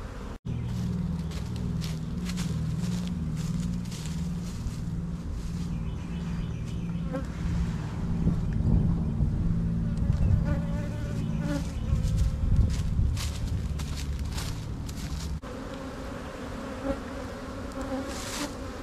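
Honey bees buzz densely around an open hive while a colony is split into five-frame nucs in spring, a steady close swarm drone with a few louder passes of single bees near the ear.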